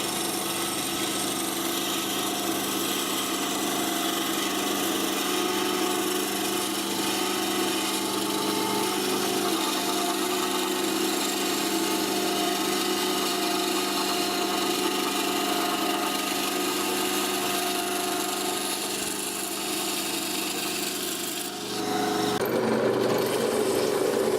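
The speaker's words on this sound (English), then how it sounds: "That new bandsaw blade's doing a great job." A bandsaw with a new blade cuts scrap wood, a steady loud whining drone that holds unbroken for over twenty seconds before a brief shift near the end, with no talking.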